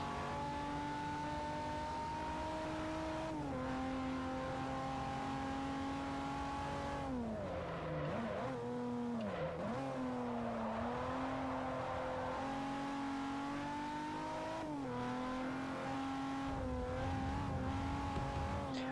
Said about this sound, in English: I just got distracted by hearing tires screech.